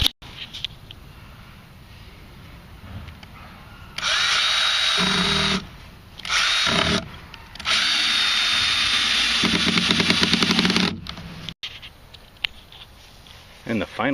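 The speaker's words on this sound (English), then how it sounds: "And the final 2 screws go in." Power drill driving screws into cedar fence panel wood while building a raised garden bed, several loud bursts of whirring a few seconds each, separated by quieter gaps.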